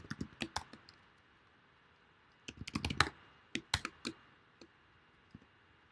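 Typing code on a computer keyboard, quick bursts of crisp close key clicks separated by short pauses, with no talking.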